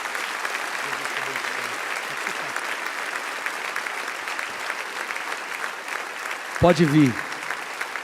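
A church congregation applauds steadily throughout a service while a preacher's voice speaks over it, and a brief musical tone rises near the end.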